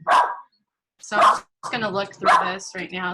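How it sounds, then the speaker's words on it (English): A pet dog barks indoors in a few sharp, loud bursts, starting alone before a person begins talking over the later barks. "Sorry, that's my dog barking."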